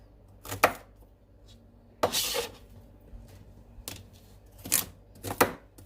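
Celery being chopped with a knife on a board: four separate bursts of crisp, crunchy cuts, near and fairly loud, with quiet pauses between them and no talking.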